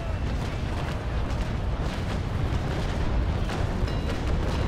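Ship cannons roar in a Naval Action port battle, a continuous heavy rumble of overlapping booms with no clear gaps, loud and dense from start to finish.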